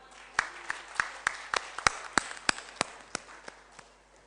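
Sparse hand clapping at a literary festival poetry session in Islamabad welcoming the poet Mustafa Elkhani: a dozen sharp, evenly spaced claps from a small audience, close and distinct rather than a dense roar.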